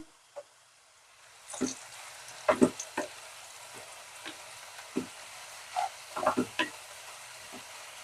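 Onions fry quietly in a pressure cooker, a faint low sizzle under sporadic scrapes and clinks of a spoon stirring against the metal, close and without speech.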